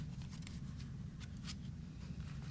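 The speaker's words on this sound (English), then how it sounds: "Just butchering the shuffle" Tarot cards being shuffled by hand, quiet riffling and soft papery flicks in short bursts over a low background hum.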